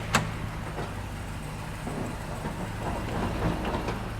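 A Jeep running in rear-wheel drive, a low steady engine hum with a brief knock at the start and faint rattles over it, moderately loud and close, with no talking.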